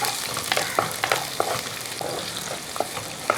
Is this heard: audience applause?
no